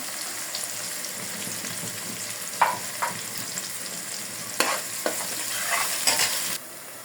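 Onions frying in hot oil with bay leaf and garam masala for a chicken curry, a steady sizzle with a few sharp scrapes and clanks of a spoon stirring the pan, close and without talking.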